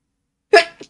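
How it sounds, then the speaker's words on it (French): A single short sneeze, loud and close, with a softer trailing breath or sniff right after it. "Je sais que j'ai un éternuement pas terrible."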